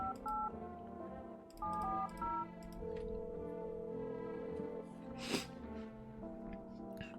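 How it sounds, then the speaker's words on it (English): Telephone keypad tones in the video game No, I'm Not a Human, with several short dialing beeps in quick succession over a soft background hum, then a single sharp noise. "Alright, time to make some phone calls."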